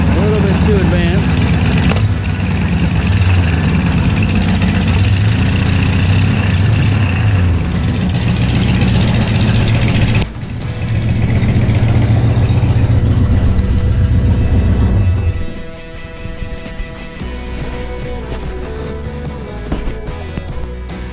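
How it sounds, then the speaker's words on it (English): A Ford engine with a misfire cranks and catches, running loud and rough for a while before cutting back to a quieter idle; no speech is heard. "Well, it starts. We got a misfire."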